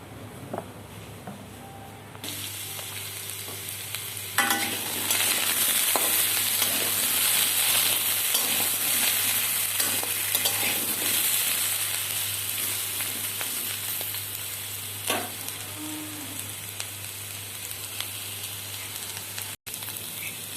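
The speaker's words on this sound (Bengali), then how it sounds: "সমস্ত সবজি আমি ভালো করে ভেজে নিয়েছি" Mixed vegetables for khichuri fry in white oil in a pot, a loud, steady, crackling sizzle that swells after the first couple of seconds and continues with scattered small pops and clicks.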